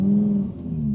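An Audi R8 Spyder's 5.2-litre V10 right behind the seats holds a loud, smooth hum close by, dips briefly, then returns at a slightly lower pitch.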